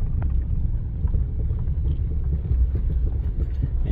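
An unbalanced car engine with a P0300 misfire code and no power idles in a low, uneven rumble, close and continuous with slight pulsing irregularities throughout.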